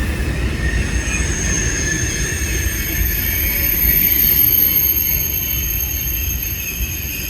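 A train rolls steadily into a station in Lille, France, its continuous loud rumble laced with high, sustained wheel squeal, with no voices present.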